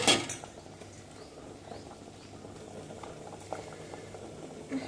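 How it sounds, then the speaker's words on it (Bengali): Cauliflower in a pot of hot salted water at a low simmer, a faint steady bubbling patter with a few soft clinks nearby. "ফুলকপিটা জাস্ট গরম জলে দিয়ে তুলে নেব, বেশি সেদ্ধ করব না"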